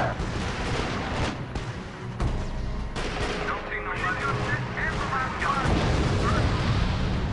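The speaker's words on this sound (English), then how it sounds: "Unit under sustained fire!" Dense gunfire and artillery explosions from a real-time strategy war game fill the battlefield, with sustained shots and booming impacts rolling continuously, a voice speaking over the combat.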